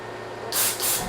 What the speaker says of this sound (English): we're gonna do the black spray. Just add a little bit.